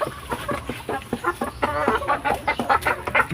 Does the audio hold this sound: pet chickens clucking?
yes